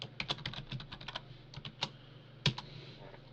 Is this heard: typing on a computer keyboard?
yes